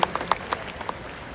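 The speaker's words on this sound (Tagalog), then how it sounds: "Ay, palakpak naman po." Audience applause at a provincial governor's State of the Province address in Batangas: a smattering of scattered claps, fairly faint and sparse, thinning out over a second or so.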